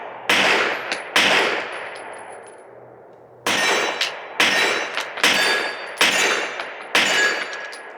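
Rapid gunshots at a range, each followed by a bright metallic clang from a steel target: two shots, a short pause, then five more in a steady rhythm, loud and close.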